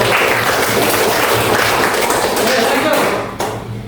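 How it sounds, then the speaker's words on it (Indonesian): Students in a classroom clapping their hands together, a steady, dense burst of close applause lasting a few seconds before tapering off, with a low hum underneath. "Masya Allah, tepuk tangan dulu."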